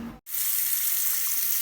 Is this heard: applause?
no